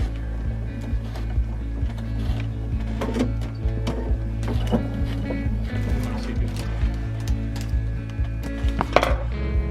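A sewing machine stitches the fringe of a delta kite, giving a steady mechanical whir with a rapid needle rhythm and scattered clicks, running continuously at close range.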